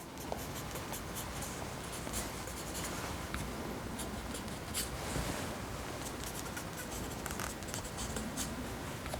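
A fine-tipped calligraphy pen scratches across paper in quick, close, faint strokes, forming a continuous scratchy texture with short bright accents and no speech.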